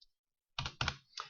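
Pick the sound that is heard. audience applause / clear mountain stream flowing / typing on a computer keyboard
typing on a computer keyboard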